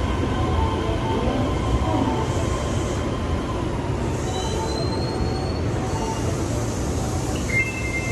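An Osaka Metro Chuo Line subway train rumbles into a platform at Asashiobashi Station, a steady low roar with faint high wheel squeals, continuous and fairly loud.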